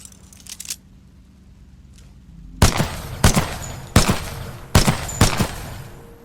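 Gunfire at the shooting range in Titanfall 2: five loud, sharp shots spaced about a second apart after a quieter stretch of faint clicks and handling noise.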